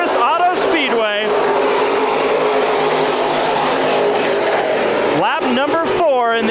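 IMCA Modified race cars roar through a heat race at Perris Auto Speedway, a loud continuous engine drone filling the clip, with a commentator's voice over the track noise at the start and end.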